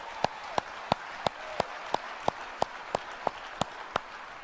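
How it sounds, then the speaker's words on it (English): A few people clap at a business presentation, a sparse, evenly spaced series of about a dozen single claps that sound thin and somewhat distant against a quiet background hiss. "So if there's anyone that deserves a round of applause"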